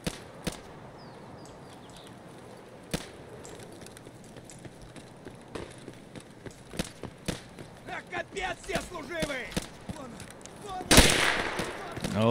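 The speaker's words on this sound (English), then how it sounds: "Sounds like there's some shots right up here actually." Scattered gunshots in Escape From Tarkov, mostly distant single cracks spread across the stretch, then a louder burst near the end, with footsteps and movement close by.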